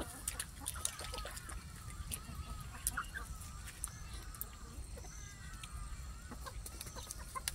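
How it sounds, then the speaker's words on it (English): Harsh, clucking ibis calls repeat irregularly over a busy outdoor background on a village homestead, several birds calling at moderate distance. "Sounds of the ibis, birds flying."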